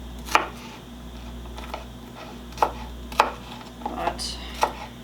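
A knife chops through a really big onion on a board, giving several distinct thuds spaced irregularly over a low steady hum.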